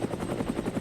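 An ornithopter aircraft in the Code: Realize video game gives off a brief, rapid rhythmic whump of beating rotors or wings, a low throbbing pulse that sounds fairly close.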